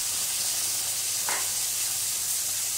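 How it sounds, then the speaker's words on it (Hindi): Roughly chopped tomatoes hit hot masala in a pan for an aloo parval curry, giving a quiet, steady sizzle and hiss with a single brief clatter partway through; no one speaks. "अच्छे से हमें मसाले के साथ टमाटर को भूनना है।"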